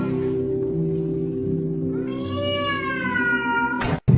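A voice imitates a cat, producing one drawn-out, rising-and-falling meow over a low room hum in a home kitchen where baozi are cooking, ending in a sharp clatter.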